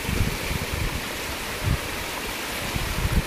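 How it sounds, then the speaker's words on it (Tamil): River water pours over the Subrayapuram check dam near Sathankulam after rain, making a steady, close rushing wash with small surges. "பாலத்தை தாண்டி முட்டுக்கு தண்ணி போயிட்டு இருக்குது."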